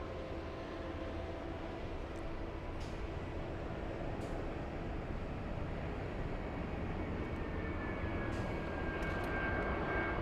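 A Delta airliner rolling for takeoff on runway 24 left at LAX: a steady, broad engine roar with a rising whine that holds for the whole stretch, heard from inside or nearby without talk.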